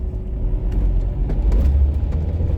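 A vehicle's wheels spin and slip on seaweed-covered ground at night, a steady low engine rumble with rising revving surges throughout, no talking.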